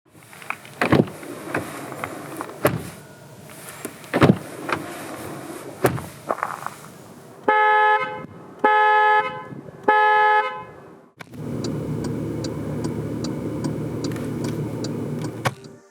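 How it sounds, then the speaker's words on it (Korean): Sounds from a 2020 Porsche Panamera 4 E-Hybrid plug-in hybrid: a few sharp door thumps and mechanical clicks, then short beeping chimes, followed by a steady electric hum settling in. "파나메라 4E 하이브리드가 들려주는 감성 측면의 소리를 들어보겠습니다"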